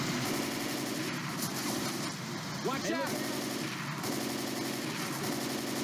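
Gunshots in the zombie game Left 4 Dead 2 during a rainy mill escape, heard as steady firing and rumbling effects under continuous game noise, with whooshing sweeps in the middle.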